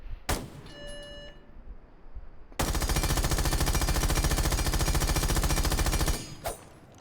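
A light machine gun fitted with a muzzle brake in Rainbow Six Siege fires one loud, sustained burst of about three and a half seconds, rapid even shots close up, with a few quieter game clicks and thuds before it.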